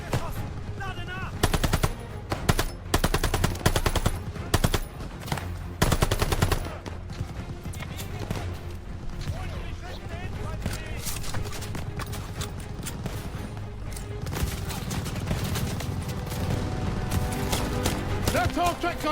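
Gunfire in the Call of Duty Vanguard video game: dense bursts of rapid automatic fire and single shots crackle across a battlefield over rumbling engines and background music, continuing throughout.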